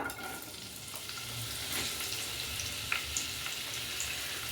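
Dried red chillies fry in about one and a half tablespoons of coconut oil, giving a soft, steady sizzle with faint crackles and a few light stirring clicks.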